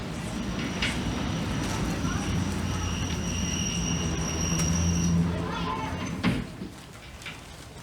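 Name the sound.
train passing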